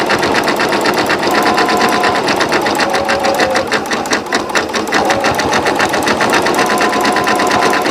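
A sewing machine stitching through coiled rope to form a rope bowl, running loud and close with a fast, steady mechanical chatter that continues unbroken throughout.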